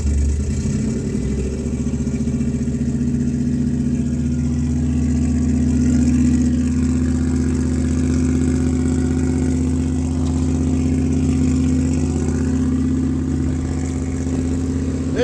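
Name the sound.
car engine running and revving after starting with key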